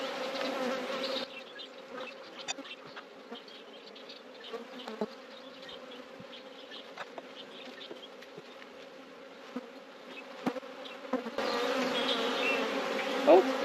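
A dense swarm of honeybees hums over a hive frame heavy with pollen and honey, a steady close buzz that carries throughout, swelling louder near the start and again at the end.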